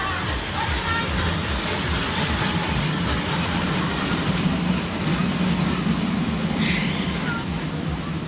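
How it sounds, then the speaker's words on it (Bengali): A park ride train rolls up to a platform and comes to a halt, a loud continuous low rumble with rattling wheels and engine drone, mixed with crowd babble throughout. "আমাদের আমাদের ট্রেনটা থেমে গেল"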